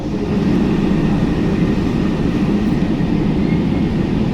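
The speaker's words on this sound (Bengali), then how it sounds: "শেষ পর্যন্ত আমাদের মেট্রো কিন্তু এবার নিচ থেকে উপরের দিকে উঠে গেছে" A Kolkata metro train runs near Dum Dum Cantonment, giving a steady, loud rumble and rolling rail noise that holds evenly throughout with no voices.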